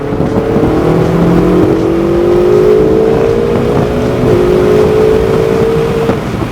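A Ferrari accelerates on a track, its engine note climbing steadily in a loud, sustained sweep with a brief dip near the end as it shifts, heard close and without talk.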